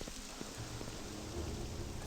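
Howling ash storm weather from the game Morrowind, a steady broadband roar with low gusty rumbles, faint and continuous throughout with no talk.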